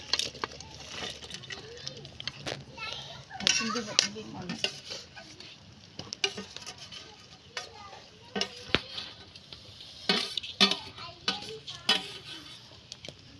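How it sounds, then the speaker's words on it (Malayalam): Fried chicken goes into a pot of kappa biryani with metallic scrapes and clinks of a spoon against the vessel, irregular stirring knocks over a faint sizzle, close and fairly clear. "കോഴി ഇടാൻ പോവുകയാണേ"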